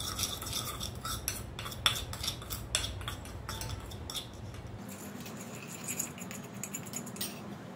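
Spices and corn chaat are stirred in a bowl with a spoon, giving quick, close metallic clinks and scrapes in an irregular rhythm, fairly quiet and with no talking.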